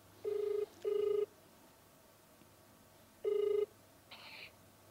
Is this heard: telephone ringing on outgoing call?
yes